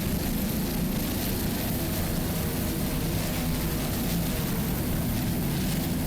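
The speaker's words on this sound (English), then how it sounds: "525 horsepower inboard engines with Mercury number 6 Speedmaster drive." A steady, loud, unbroken engine roar from a racing powerboat running 525 horsepower inboard engines with a Mercury Speedmaster drive at a Miami Grand Prix race, constant throughout with no break.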